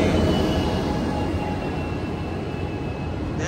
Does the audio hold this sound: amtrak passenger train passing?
yes